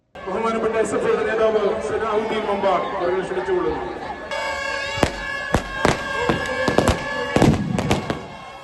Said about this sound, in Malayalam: കളി അവസാനിച്ചതോടെ മൈതാനത്ത് പടക്കങ്ങൾ പൊട്ടി.